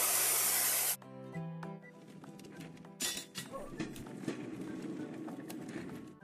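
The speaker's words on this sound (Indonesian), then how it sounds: "Lihatlah awan dan pilih cangkir pistol semprot." A spray gun hisses loudly in a construction video game for about a second, then stops. Cartoonish game sounds and effects follow, with short chimes and clatters.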